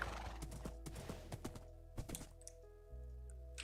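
Minecraft horse in a hardcore survival world, with quick clip-clop hoof steps and a short whinny over a steady background tone, ending in a few soft thumps.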